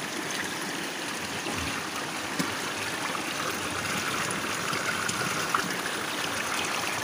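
Flowing stream water running in a steady, even rush, moderately quiet and unbroken, with no voices over it.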